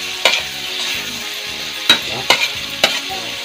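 Carrot and bell pepper frying in a pan with hotdog while being stirred, a steady close sizzle broken by a few sharp scraping clacks of the utensil against the pan.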